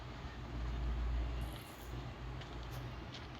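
Low, steady rumble of a train rolling past in Indian Bike Simulator 3D, with a mechanical drone, swelling slightly then holding level, no voices.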